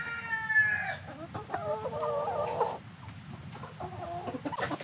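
Homestead chickens clucking and calling nearby, a run of short throaty clucks and drawn-out tonal squawks from several hens, fairly quiet with faint farmyard background and no talk.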